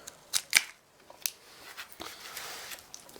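A few quick, crisp snips of pruning shears cutting back a Ficus benjamina shoot, close and faint, followed by soft rustling of leaves and handling.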